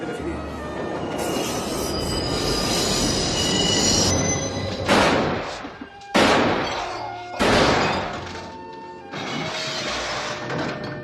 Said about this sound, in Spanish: las palabras de Solocho van ahogándose con el ruido del tren que cada vez es más alto